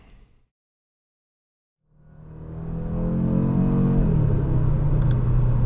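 A 2024 Audi RS3 drives on the road, its engine rumble rising out of near silence into a loud, steady accelerating drone that holds and sustains to the end.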